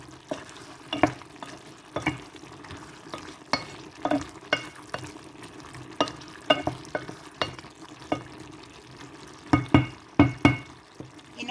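A spoon scrapes and knocks through a jackfruit seed curry in a pan, irregular stirring strokes over a soft, continuous sizzle, close and fairly quiet.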